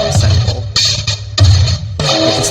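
A chopped drum sample plays within a song, with punchy low kicks and bright bursts of snare or cymbal recurring in a steady loop, loud and up front with no talking.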